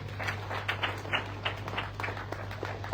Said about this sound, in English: I think you deserve a round of applause again for that.